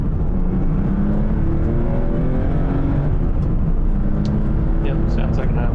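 Hot rod Porsche 911 engine heard while driving, a loud continuous rumble and drone with shifting tones, steady and close, with voices talking over it.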